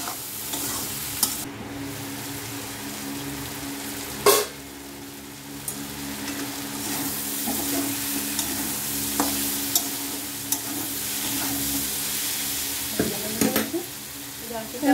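Ghetkochu (taro) stalks frying in a pan with salt, sugar and turmeric while being stirred, a loud continuous sizzle with repeated scraping and clattering strokes up close, one sharp knock near the middle.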